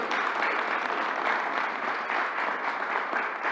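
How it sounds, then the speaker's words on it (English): An audience at a New York governor's news conference applauds: dense, even clapping that holds steady for a few seconds with no break and no voices on top. "Let's give her another round of applause."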